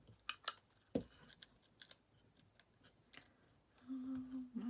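Sticky tape is pulled and handled on a craft project kit, making a run of short, close, crisp crackles and snaps, followed by a longer ripping pull near the end.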